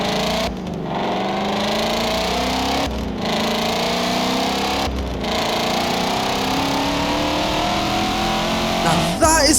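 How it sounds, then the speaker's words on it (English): Voodoo V8 engine of a car in Forza Motorsport 7, loud and close, revving repeatedly with sharp gear shifts and rising pitch between brief lifts off the throttle. "That is how a Voodoo V8 should sound."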